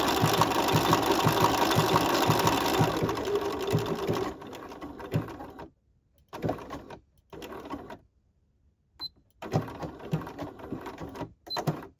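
A sewing machine works a blanket stitch on a decorated gift card holder. It opens with a long, steady run of rhythmic stitching, then gives several short bursts separated by pauses.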